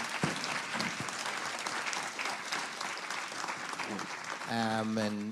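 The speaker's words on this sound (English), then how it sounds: "First of all, a big round of applause for Cari and Maureen and Melissa." Audience applause for panelists at the close of a Yom Kippur afternoon panel discussion, steady dense clapping filling the room throughout, with a voice briefly speaking over it near the end.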